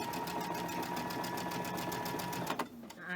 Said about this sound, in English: We're going to sew these 3 together first